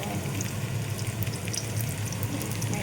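Garlic dropped into a pan of frying ginger gives off a continuous, loud, even sizzle and hiss with no pauses or voices.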